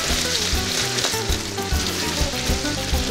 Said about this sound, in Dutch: zie je dat overal is mooi aan koken